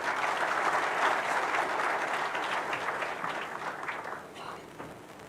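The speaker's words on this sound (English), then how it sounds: "Please, another round of applause for our young innovators." A round of audience applause at the closing ceremony of a summit at Uhuru Gardens in Nairobi, dense and steady before gradually tapering off, with a few voices faintly audible.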